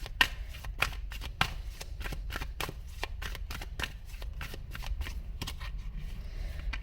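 A tarot deck shuffled by hand, quick rhythmic riffling snaps repeating steadily and close up for several seconds, with no talking.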